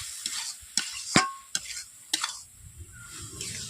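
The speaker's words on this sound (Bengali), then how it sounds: "বাদামটাকে আমি এইভাবে নেড়ে নিচ্ছি লাউয়ের সঙ্গে" A spoon stirs peanuts through chopped bottle gourd in a frying pan, giving several close scraping strokes over a soft sizzle, with no talking.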